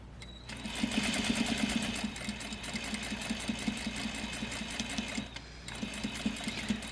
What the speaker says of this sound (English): So then I'm going to sew along the bottom all the way across.